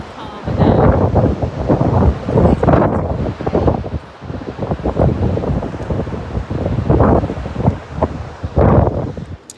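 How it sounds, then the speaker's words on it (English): Strong wind buffeting outdoors on the Isle of Wight, gusting roars rising and falling across the microphone in uneven bursts, loud and close, with a voice partly masked underneath. "It's windy, but it's getting a little bit calmer now."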